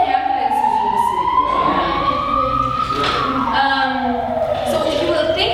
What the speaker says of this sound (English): So many ambulances in the city.